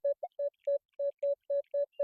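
A metal detector on a hunt for old coins gives a steady run of nine short, even beeps of the same pitch, clear and close with no talk.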